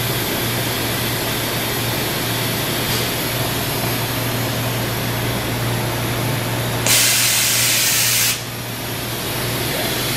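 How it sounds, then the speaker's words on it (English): An air blast fires on a Trak TMC7 vertical machining center, a loud, sharp hiss lasting about a second and a half over a steady machine hum, then cutting off abruptly, with a fainter hiss heard earlier. "We have air blast."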